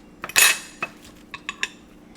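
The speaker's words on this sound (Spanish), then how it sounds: "Yo las machuco así con esto. Este es un machucador de frijoles." Potatoes being mashed with a metal bean masher in a kitchen pot, giving a cluster of sharp scraping clinks followed by several lighter taps, close and clear with no talking.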